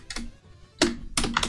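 Keys clatter on a computer keyboard as a cheat code is typed during a cube game, in three quick bursts of close, crisp clicks with short pauses between.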